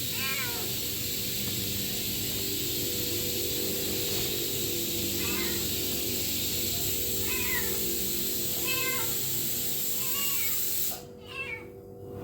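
Cats meow repeatedly in a home kitchen around feeding time, short rising cries recurring every second or two over a steady loud background hum, then the hum cuts out near the end.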